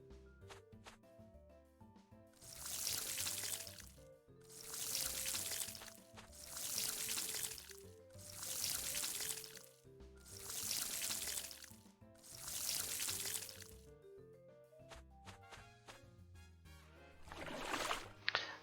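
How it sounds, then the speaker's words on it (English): Crops being watered in the farming video game Pumpkin Days: six evenly spaced bursts of pouring water, each about a second long, over soft looping background music. "real fast I'm going to water what few crops I have"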